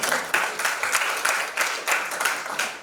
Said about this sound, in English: please clap for this student